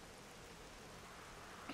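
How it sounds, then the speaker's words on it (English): Steady rain falling in the survival video game 7 Days to Die, a soft even hiss with no talk over it and a brief tap near the end. "It's just been snowing, and now it's raining."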